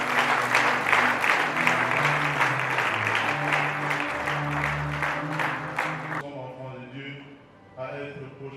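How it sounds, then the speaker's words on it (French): An audience at a Catholic church event honoring an elderly priest applauds with dense, rhythmic clapping that drops off sharply near the end, leaving a quieter tail with a voice speaking over scattered sound. "Sous vos applaudissements, s'il vous plaît."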